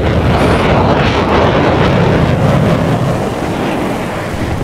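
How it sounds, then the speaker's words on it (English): A loud, sustained roar of a bomb explosion in the video game War Thunder fills the clip, a dense broadband rumble that holds steady and then slowly eases off, with no talking over it. "Holy shit, the PDA just dropped a bomb."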